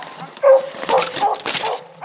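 Small hunting dogs on a raccoon hunt give short barks and whimpering yips close by, mixed with human voices and outdoor noise.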